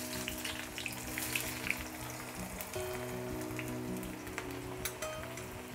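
Chopped onions fry in hot oil for egg biryani, giving a steady, dense crackle and sizzle that carries on evenly from start to finish, with a faint low hum underneath.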